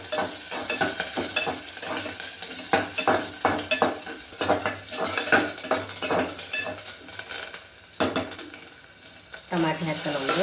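Onion fries in hot oil with mustard seeds and curry leaves, a loud crackling sizzle punctuated by rapid scraping and clattering of a spatula against the pan, with a brief voice near the end.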